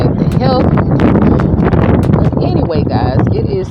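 Wind gusting outdoors beside a tipi tiny home with potted plants, roaring steadily against the microphone as a loud low rumble, while speech-like sounds and small squeaks are mixed in throughout.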